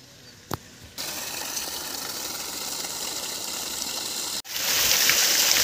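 Water gushes steadily from a 900W BLDC 2.5-inch borewell motor pump being tested outdoors. A sharp click comes first, then a dense, continuous rush that grows louder near the end.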